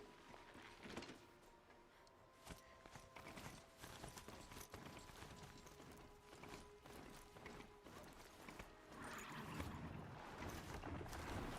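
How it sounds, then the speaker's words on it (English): Horse mount ridden through the world of Horizon Zero Dawn on PS4, its steady clip-clop hoofbeats running throughout amid game music and ambient effects. "On to my horse."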